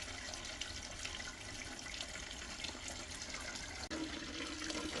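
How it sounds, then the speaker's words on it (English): Steady, fairly faint rush of water fills a newly plumbed toilet cistern after a flush, with a continuous hiss that barely changes and one brief dip near the end. "The toilet has been flushed and everything is watertight."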